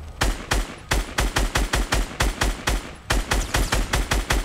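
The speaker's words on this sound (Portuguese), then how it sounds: "Eu acho que ele nem viu que tu tá atirando aí" In a Fortnite match, rapid video game gunfire hammers out in a steady stream of sharp, punchy shots, loud and continuous, with a short pause partway through.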